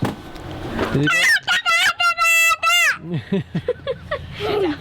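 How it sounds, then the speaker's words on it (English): A rooster crows loudly nearby with a long, rising and falling call, followed by scattered clucks and a person speaking. "I think that was a rooster"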